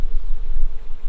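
A dense, loud buzz of honey bees at an opened hive during an inspection, a steady close drone lasting about a second with no pauses.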